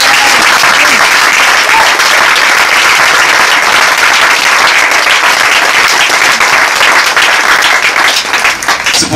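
A church congregation in Côte d'Ivoire applauds in loud, dense, sustained clapping that fills the whole stretch and fades slightly at the end.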